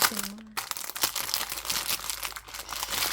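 A small notebook's plastic packaging being unwrapped, crinkling and rustling closely in bursts with sharp crackles, after a brief tonal sound at the start; no speech.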